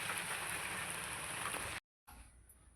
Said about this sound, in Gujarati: કેટલો બધો વરસાદ પડી રહ્યો છે